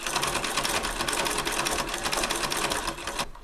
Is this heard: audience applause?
no